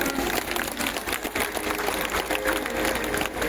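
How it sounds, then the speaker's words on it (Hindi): An assembly at a Catholic women's association annual general meeting in Ranchi claps to welcome a guest, a thick, steady wash of applause heard in a reverberant hall without pause. "हम तालियों से उनका स्वागत करें।"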